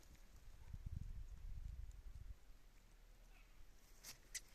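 Faint hoofbeats of a mare clop on the ground for a couple of seconds, then fade into quiet outdoor background with a few small clicks.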